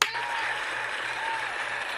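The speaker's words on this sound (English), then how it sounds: "Give him a round of applause" Applause from a small crowd at a Free Comic Book Day and May the 4th Star Wars event, a steady wash of clapping that starts abruptly and holds at an even level for two seconds.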